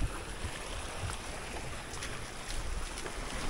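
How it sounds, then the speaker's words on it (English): Ocean swell and breaking waves during a boat launch at Dundee Beach, a steady broadband wash of surf with wind noise, continuous and fairly loud throughout with no speech. "Bit of a swell in here this morning"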